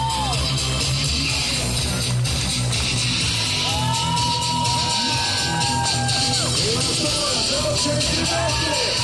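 A live audience at a 2013 final cheers, yells and whoops for performer Ivars. The crowd noise is dense and continuous, with scattered shouts and whistles over it.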